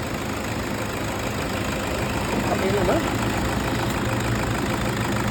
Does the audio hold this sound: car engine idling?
yes